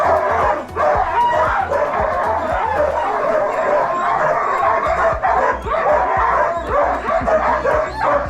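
A large pack of sled dogs on gravel in Skagway barks, yips and whines continuously, a dense, loud chorus of overlapping voices with no pause.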